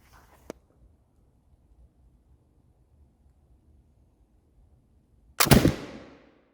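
A single loud black powder firearm shot at 25 yards on an outdoor range, a sharp blast with a trailing roar that fades over about a second, after a small faint click earlier.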